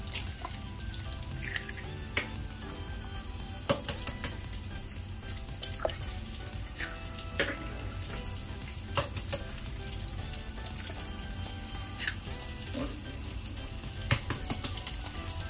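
Tomato frying in a pan for a tomato and tuna dish, giving a steady close sizzle with scattered crackles and pops and no talking.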